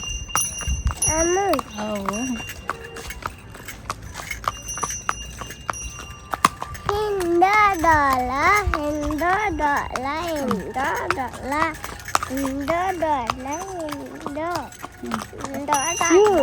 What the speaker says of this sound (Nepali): हजुरले घोडा चढ्दा मजा आयो